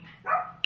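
A single short, fairly close dog bark followed by a brief sharp yip, with quiet background between.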